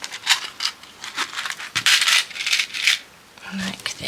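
Scissors snipping through fabric while pinning a front and back piece for a fabric heart, a run of short crisp crunching cuts close by, no talk.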